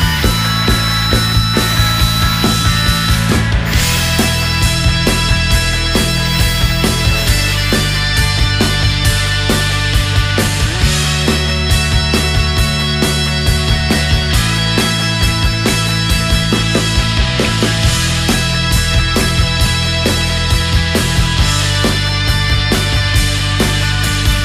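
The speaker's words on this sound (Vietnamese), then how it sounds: "2 tấm thép còn lại mình sẽ khoan ở giữa và tạo ren M10." Power tool drilling and thread tapping for M10 threads through steel plates, a steady loud whirring and grinding that runs continuously with shifting pitch and brief pauses.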